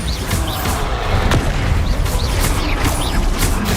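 Bombarda blasting spells from Hogwarts Legacy boom repeatedly in a dense, loud, continuous barrage of explosive impacts and crashes, with no talk over them.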